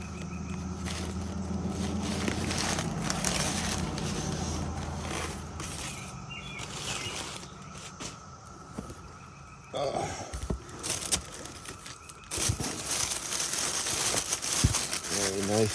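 Paper packing from a polymer clay tools parcel being unwrapped and crinkled, with broadband rustling and crackling bursts that grow sharper and more frequent toward the end, over a steady background hum.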